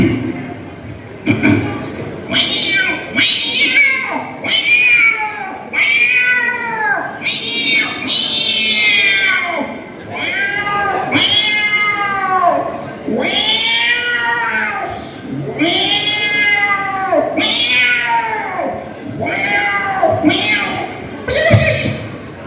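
A voice imitates a cat's drawn-out yowling, as if bathed in cold water, repeated rising and falling wails one after another, loud and close for the whole stretch.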